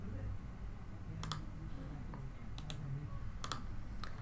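A few crisp, close computer mouse clicks, some in quick double taps, spaced across a few seconds over a quiet background hum while working in NX 12 CAD software.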